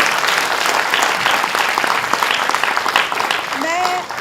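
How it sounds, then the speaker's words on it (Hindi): An audience in a theatre hall claps loudly after a stage performance of the play Naagin Tera Vansh Badhe. The applause is steady and dense, and a voice begins speaking near the end as the clapping fades. "आपकी तालियों ने ये जता दिया कि प्रस्तुति आपको बहुत अच्छी लगी"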